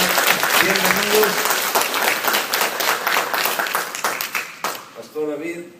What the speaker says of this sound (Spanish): yo quiero que le dé un aplauso fuerte a Dios para recibir a nuestros hermanos